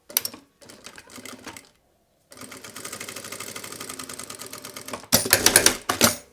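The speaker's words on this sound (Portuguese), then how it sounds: "E costuro aqui o último tecido." A sewing machine stitches fabric for a cloth passport wallet in short bursts, a rapid mechanical clatter up close, pausing between runs and ending with a louder, faster stretch.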